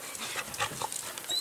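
A black and tan beagle-type harehound with a tan head pants softly in quick, steady breaths, with faint whimpers mixed in, at low volume and without voices.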